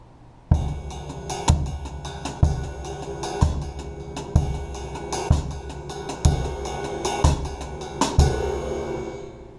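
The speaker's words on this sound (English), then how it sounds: "if I were to ride this muted cymbal and the hi-hat, every 5th note would sound like this." A muted cymbal and hi-hat ride over a bass drum landing on every fifth note, giving evenly spaced heavy accents about once a second within a busy, close drum pattern.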